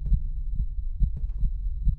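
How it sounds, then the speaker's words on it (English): A heavy, low heartbeat thumps in the horror video game 9 Childs Street, repeating steadily as paired muffled beats, close and alone with a faint hum behind it. "Why is my heart beating like that?"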